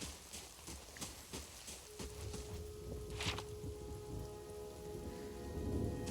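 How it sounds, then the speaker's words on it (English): Rain falls steadily over a town in the video game Pillars of Eternity, a soft continuous patter with scattered drip taps and a low background wash, faint and ambient. "Very rainy in this town."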